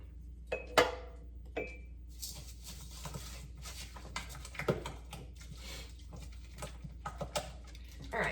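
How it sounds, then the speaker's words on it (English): A spoon stirring casserole ingredients in a dish, scattered scraping and clinking taps against the bowl, some sharp and close, over a faint low hum. "And I'm going to stir this up."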